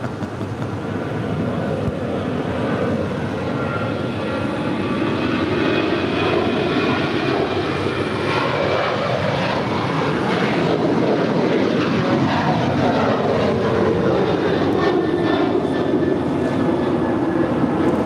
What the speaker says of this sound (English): This is United Airlines 1608 departing to Cancun. It's a 737-900 ER.